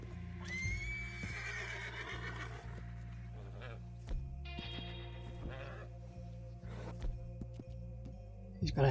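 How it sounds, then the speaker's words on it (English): A horse whinnies repeatedly inside a stable in the video game Red Dead Redemption 2, the Braithwaite Turkoman breed, with loud drawn-out neighs over a steady low game soundscape and someone talking throughout. "And this is a horse in the game."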